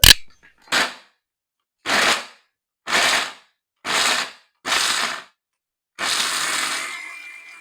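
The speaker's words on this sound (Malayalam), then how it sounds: "വലിയ പീസ് ആയതുകൊണ്ട് നമ്മൾ ആദ്യം ചെറിയ മിക്സറിൽ അടിച്ചിട്ട് നമുക്ക് വലിയ ജാറിലേക്ക് മാറ്റാം" Small mixer grinder pulsing large coconut pieces: six short loud whirring bursts with silent gaps, then a longer grinding run, close and with no talk.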